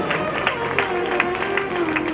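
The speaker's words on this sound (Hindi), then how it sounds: "एक जोरदार करतल ध्वनि तालियों से आप महाराज जी का स्वागत करें" A seated audience at a Bhagwat Katha religious gathering applauds in welcome of Maharaj ji, producing steady dense clapping with a held musical tone underneath, plus some speech, lasting a couple of seconds.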